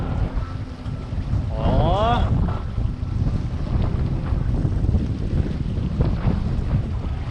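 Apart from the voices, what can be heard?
strong wind gale while sailing a small sailboat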